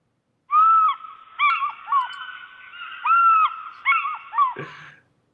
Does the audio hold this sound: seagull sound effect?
yes